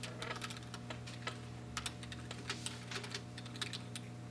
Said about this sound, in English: I start typing stuff.